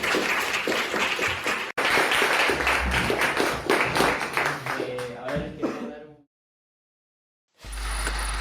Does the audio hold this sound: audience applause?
yes